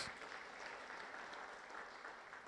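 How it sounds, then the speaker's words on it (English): A crowd at a men's empowerment summit applauds steadily, with dense clapping that holds at an even level throughout. "give them a great big round of applause"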